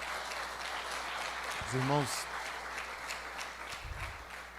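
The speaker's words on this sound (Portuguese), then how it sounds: "Dê para Jesus um lindo aplauso nesta hora, em nome de Jesus." A church congregation claps steadily through the stretch, a dense, even wash of applause, while a single voice briefly calls out partway through.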